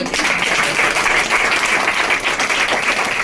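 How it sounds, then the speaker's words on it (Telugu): A large audience on its feet claps hard together, a dense, sustained roar of loud applause running unbroken from start to finish. "అందరూ నిలబడాలి, అందరికీ అసలు గట్టి క్లాప్స్ రావాలి"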